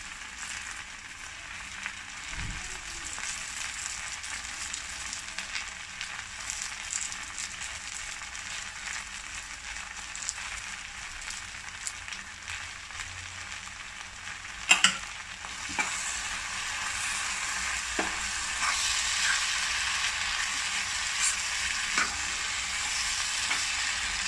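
Chicken pasta with cheese is stirred in a hot pan: a continuous soft sizzle with scraping and occasional clicking from the utensil, close and steady throughout.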